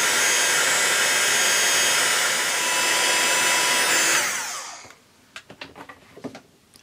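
A loud, steady whooshing blast of hot air roars for about four seconds, then winds down, followed by a few faint clicks and taps.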